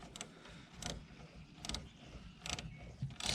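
A ratchet with a 7mm socket tightens a hose clamp on the throttle body hose of a 2013-2016 Dodge Dart 2.4L, giving a quiet, close series of clicking bursts in an even rhythm.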